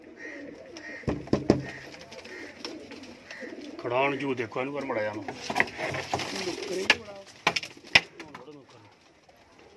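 Teddy pigeons coo in soft repeated calls close by, while someone talks over them and there are occasional sharp knocks.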